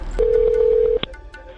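A telephone keypad dials a 911 emergency call: a sustained touch-tone beep lasting most of a second, then a short sharp click and a few faint tones, close and clear with no talking.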